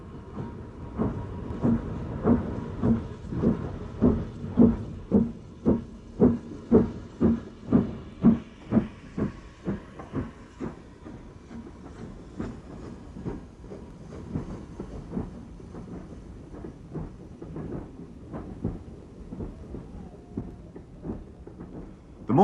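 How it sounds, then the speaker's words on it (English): BR Standard steam locomotive 75078 pulling out of Bury with a train on a misty morning, its exhaust beats coming in a strong, regular chuffing rhythm that quickens and fades as it moves away, with no voices. "number 75078 leaves Bury with the first train of the day, a timeless scene."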